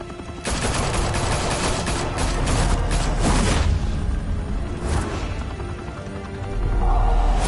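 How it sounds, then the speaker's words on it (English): Heavy gunfire in a Batman video game set in Gotham, with sustained loud bursts of automatic fire and booming shots that ease briefly then surge again. "Open fire!"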